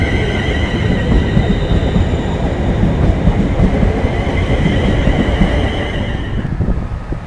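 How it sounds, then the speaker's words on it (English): A passenger train pulls out of Birmingham International station with a loud, steady rolling rumble and faint wheel hum, recorded close by, with no voices. "The 1505 service from Euston to Birmingham New Street, just leaving now"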